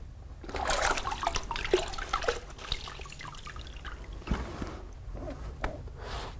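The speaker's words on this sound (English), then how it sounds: "you'll need to wipe off the excess with a sponge" A wet sponge is wiped over freshly grouted tile, giving soft, irregular watery swishes and drips in a quiet room.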